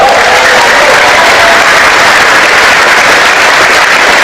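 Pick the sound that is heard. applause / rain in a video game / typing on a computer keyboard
applause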